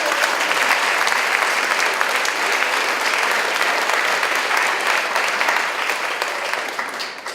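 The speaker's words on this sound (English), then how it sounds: "a big round of applause" Audience at a charity lunch giving a big round of sustained applause, dense clapping holding steady for several seconds before starting to taper off at the end.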